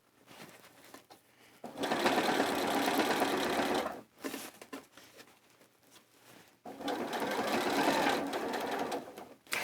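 A sewing machine stitches around the armhole of a coat in two close, loud bursts of rapid whirring with a short pause between them.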